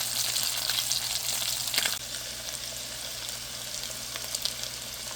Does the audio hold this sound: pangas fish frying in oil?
yes